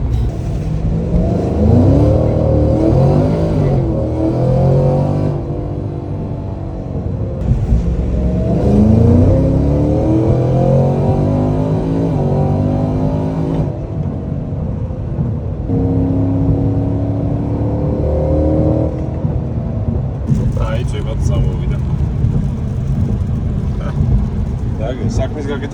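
Tuned performance car, such as a GT500, C7 Z06 or CT5-V Blackwing, accelerating and revving on a dry road during a test drive, with rising and falling engine pitch through repeated pulls under speech and background music.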